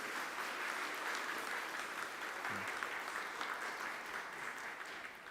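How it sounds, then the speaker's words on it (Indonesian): A congregation applauds during a church wedding ceremony, a continuous even patter of many hands that fades slightly toward the end, with no voices on top. "Tepuk tangan Bapak Ibu."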